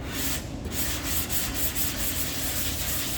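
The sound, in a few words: DA sander sanding aluminum Ford F-150 truck bed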